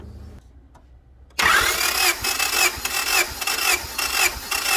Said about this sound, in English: So go ahead and crank it.